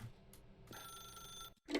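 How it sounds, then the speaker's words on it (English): A telephone rings in the video game The Stanley Parable, with a bright, sustained bell-like electronic trill heard through most of the moment, ending in a short break and a louder burst of noise. "Fine, I'll answer the phone."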